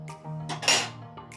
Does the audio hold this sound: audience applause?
no